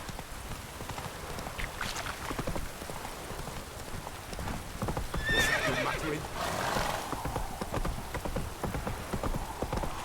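Roach, the horse from The Witcher 3, clip-clops along at a steady gallop with a whinny partway through, hoofbeats close and continuous over a soft patter of rain, with a brief voice.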